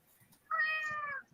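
A cat gives a single clear meow lasting under a second, close and fairly loud against a quiet background.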